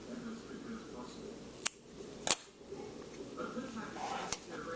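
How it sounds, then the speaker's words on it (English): Scissors snip yarn strings on a crocheted Hello Kitty beanie with earflaps, three or four quiet, crisp clicks spaced a second or so apart against soft room noise. "I'm going to cut off these strings already."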